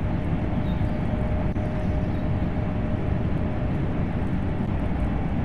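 A German ICE high-speed train on the Kassel–Würzburg line in Train Sim World 3 roars past in a steady, dense broadband rush at constant loudness, with a faint thin whine running underneath and no talking.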